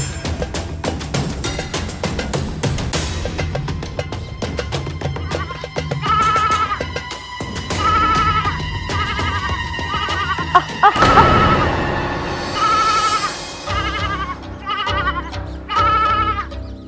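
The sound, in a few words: sheep bleating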